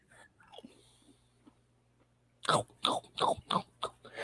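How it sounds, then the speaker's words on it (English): Lay's cheddar jalapeno potato chips being crunched up close, a run of five or six loud, crisp crunching bites in quick succession following a quieter stretch with faint talk. "This crunching sound brought to you by Lay's Jalapeno."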